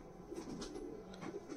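A purebred golden pigeon coos softly in a few low, breathy pulses, quiet and close, with faint background hiss and no voices.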